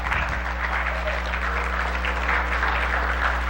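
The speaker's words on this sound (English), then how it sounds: "I always like it when people clap before I speak" A church congregation at a Baptist Sunday morning service claps in steady, continuous applause for a few seconds over a low room hum.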